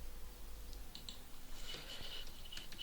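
Someone types a git command on a computer keyboard, producing a short run of soft, quick key clicks over a faint steady background hiss.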